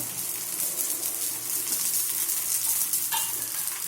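Poli flatbread sizzling in oil on a hot tawa griddle, a dense continuous crackle and hiss held close and steady, with a faint metallic tap near the end.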